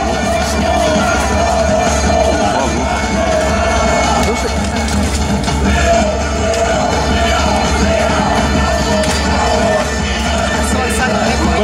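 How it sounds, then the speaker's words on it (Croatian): Spectators at a Zelina versus Magyar match roar and cheer in a continuous loud crowd din, while a voice talks over the noise. "dame i gospodo, potržite ih jednom aplauzom"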